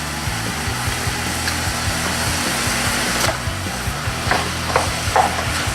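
Ground beef browning in a pan with carrots gives a steady, loud sizzle with scraping stir strokes, which grow more frequent toward the end, and no voices.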